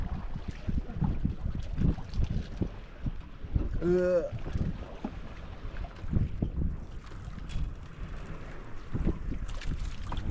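Steady wind buffets the microphone in low, rumbling gusts throughout, with a brief whining tone partway through.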